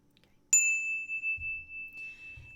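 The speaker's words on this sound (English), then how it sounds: "whoever's going to be the person making the statement rings the bell. I'm going to do this softly because it's really loud." A small bell struck once, softly, during a house blessing gives a clear, pure ring that lingers and slowly fades over about two seconds, with faint low thumps of movement underneath.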